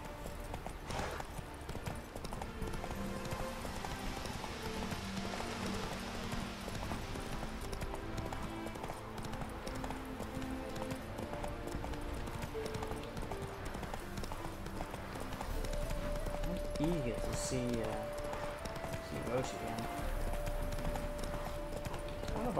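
Horse hooves clip-clop at a steady galloping rhythm in The Witcher 3, close and continuous beneath layered game music, with a brighter sustained tone entering midway.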